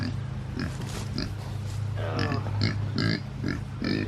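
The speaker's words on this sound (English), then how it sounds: "Now we go back to Dallas and our two meat pigs." Dallas, a farm meat pig, grunts and snorts in short, repeated bursts close by, with steady low rustling in the background.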